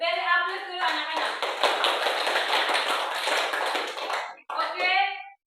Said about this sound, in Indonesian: Oke, beri aplaus dulu anak-anak.